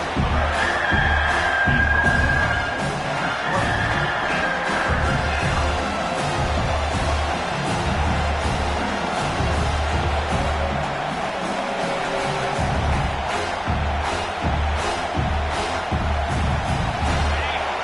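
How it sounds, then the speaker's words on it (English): Football stadium crowd at Clemson vs South Carolina, a steady roar of cheering and noise filling the clip at a constant loud level, with an announcer's voice faintly mixed in. "the crowd coming to life here, trying to help this defense down in the red zone"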